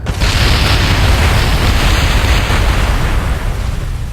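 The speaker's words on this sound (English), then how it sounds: "Seriously, why does that keep exploding?" A craft blows up in Kerbal Space Program, a loud, sustained roaring explosion that stays dense and rumbling for about four seconds with deep low-end boom throughout, close and with no voices.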